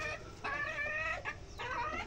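Chicken clucking close by, a few drawn-out, wavering calls in quick succession with short pauses between them, over a quiet outdoor background without talking.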